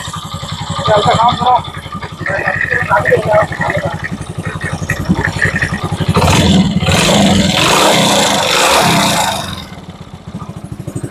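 A Hero Honda CD Deluxe motorcycle engine with newly fitted piston rings idles steadily, then revs up loudly and settles back down, running close by with a throaty putter.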